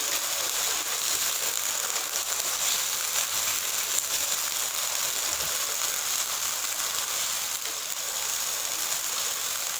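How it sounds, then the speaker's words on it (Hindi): Taro root (arvi) frying in a pan gives a steady, dense sizzle that hisses evenly and unbroken from start to finish, close up with no talking. "अच्छे से आप लोगों ने जो अरवी है वो फ्राई कर लेनी है"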